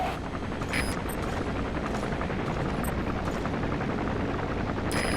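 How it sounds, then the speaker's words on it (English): Helicopter landing in Metal Gear Solid V: The Phantom Pain, a steady, dense rotor thrum held throughout at moderate volume, with faint sharp ticks over it and no talk. "There's a chopper landing."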